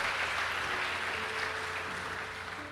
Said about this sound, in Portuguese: Um aplauso seu bem forte